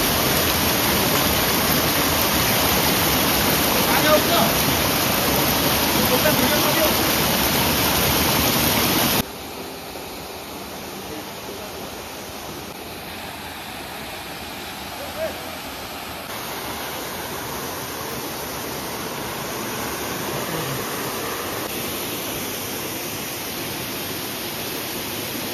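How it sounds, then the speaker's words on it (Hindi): The waterfall at Amaakunda near Balimela in Malkangiri gives off a continuous, broad roar of rushing water. It is loud and close at first, then drops to a steadier, more distant rush, with no talking. "सुंदर गोटे वाटरफॉल ब्यूटीफुल वाटरफॉल"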